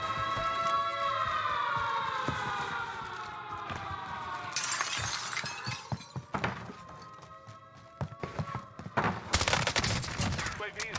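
Gunfire in Call of Duty: Warzone, scattered sharp shots and rapid bursts with glassy crashing, loudest in the second half, heard amid game sounds and a voice.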